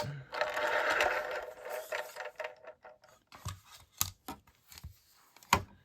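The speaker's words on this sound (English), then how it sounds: "we're just gonna bring the little die cutter down" A small manual die cutting machine clicks and whirs in a busy mechanical burst, then settles into scattered clacks and ratcheting knocks, close and fairly quiet.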